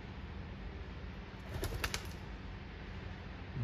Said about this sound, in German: sind noch zwei Tauben vorbeigekommen.